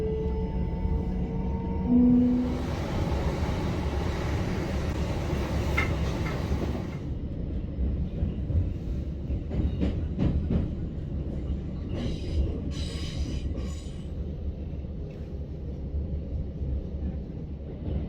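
Continuous rumbling and clatter of a London commuter train rolling along rails near Clapham Junction, heard from inside, with a brief hiss and occasional rhythmic clicks of wheels.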